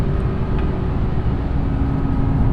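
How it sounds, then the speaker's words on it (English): A Lexus RC F Track Edition engine drones steadily on a racetrack, heard loud and close from inside the car as a continuous low hum with a constant tone and no talking. "just listen to the engine"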